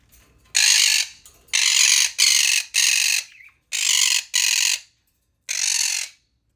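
A rooster crows and clucks loudly and harshly in six or seven forceful bursts, each about half a second long, close by and with no talk over them.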